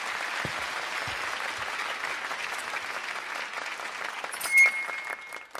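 Audience applause in a Bollywood romantic movie scene after a poetry recitation: a steady, moderately distant crowd clapping with a few louder nearby claps, tapering off near the end.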